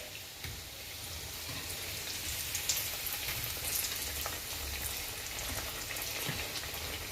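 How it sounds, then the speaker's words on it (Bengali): Chicken cutlets frying in a pan over medium heat give a soft, continuous sizzle and crackle. It is faint and steady, with no voices. "আমি হিটটাকে কমিয়েই ভাজবো, যে একটু বেশিক্ষণ ধরে ভাজবো যাতে ব্যাপারটা কাঁচা না থাকে।"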